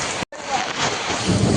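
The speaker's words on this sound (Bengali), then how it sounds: "সব ঝড় হচ্ছে, পানি।" Heavy rain pours steadily through a storm, a dense, close, continuous hiss of water with a brief cut near the start and no distinct thunder clap standing out.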